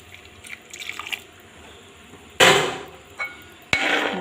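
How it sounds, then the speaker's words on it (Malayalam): Melted jaggery added to a pot of jackfruit payasam, heard as a few sudden splashy pours and knocks that stand out sharply against a quiet kitchen background, with no talk. "ശർക്കര ഉരുക്കി വെച്ചിരിക്കുന്ന ശർക്കര ഇട്ട് കൊടുക്കുക"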